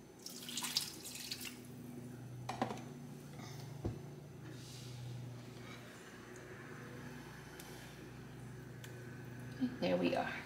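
Water running from a tap into a pot of chicken in red mole, a soft steady stream with faint drips and a brief splash near the end, with talking over it.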